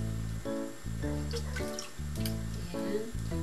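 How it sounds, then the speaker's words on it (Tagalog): Water runs and trickles quietly into a bowl to soak ingredients for ginataang halo-halo, a soft steady flow behind a pulsing background tone. "Binabad ko po sa tubig kasi para hindi siya mag-brown."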